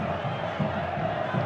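Vasco football supporters roaring in the stands during a Brazilian Série B 2009 match against Portuguesa, a steady dense crowd din with rhythmic chant pulses rising under the mix.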